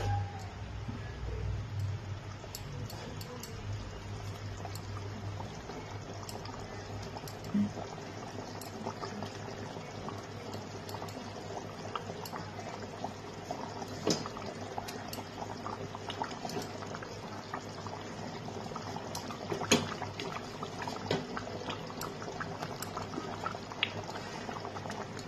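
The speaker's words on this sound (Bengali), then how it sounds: "এবার আমি মাছের মাথাগুলোকে এর মধ্যে দিয়ে দিচ্ছি।" Fish heads go into a pot of boiling potatoes for a fish head kaliya, steady bubbling and simmering liquid with occasional pops and small splashes over a continuous low boil.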